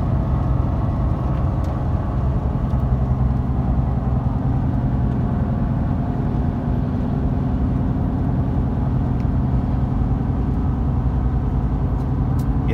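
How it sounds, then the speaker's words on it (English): A 2011 GMC Sierra 1500 4x4 Z71 on the move, a loud, constant low road roar from its tires and drivetrain that holds steady for the whole stretch. "those tires are obnoxiously loud"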